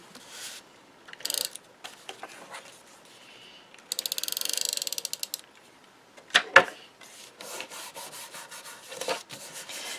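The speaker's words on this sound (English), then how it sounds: "it actually is better to just use a tape runner or something to, really make sure it's securely closed" Paper rustling and rubbing as a tape runner seals a paper envelope, with short scratchy bursts and a quick rapid ratcheting rattle from the dispenser, close and fairly quiet with pauses between strokes.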